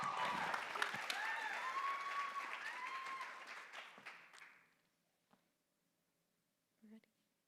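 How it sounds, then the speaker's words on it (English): Audience applause at a small-business pitch event, loud clapping with cheering over the first few seconds that dies away to near silence, followed by a couple of faint isolated taps. "Big round of applause."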